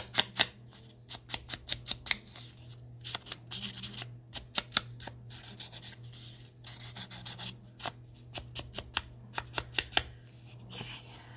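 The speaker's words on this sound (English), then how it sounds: "Cut a little bit of it off, just so I have her face" Scissors snip a paper picture down to size at a craft table, a run of short, crisp cuts in irregular bursts close up, with quiet rustling of paper between them.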